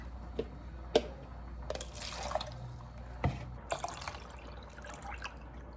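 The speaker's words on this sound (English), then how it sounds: "6 cups of water should be going in there right after. So I'm filling" Water poured into a soup pot holding potatoes, a quiet trickle and splash with scattered drips and a few sharp knocks, heard alone and fairly faint.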